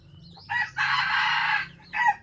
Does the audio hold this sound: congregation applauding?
no